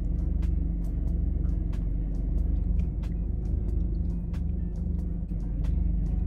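Several trucks idle and rumble close by after pulling up and parking in an empty rural spot, a heavy continuous low engine drone with faint clicks and ticks over it, no talking.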